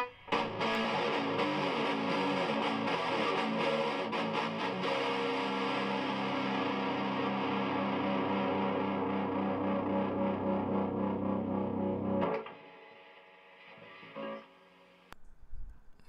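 Distorted electric guitar riff played through effects, a sustained full-band wash of crunchy chords ringing steadily for about twelve seconds before cutting off to near silence with a few faint taps.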